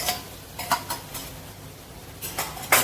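A spoon stirs a buttermilk and gram flour mixture in a pot, giving a few light, scattered metal clinks and scrapes against the pot over a quiet background.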